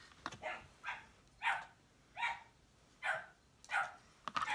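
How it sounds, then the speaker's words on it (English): Several dogs bark indoors at a moderate distance, about six evenly spaced barks in a steady rhythm, with quiet handling noises between them. "my dogs are barking"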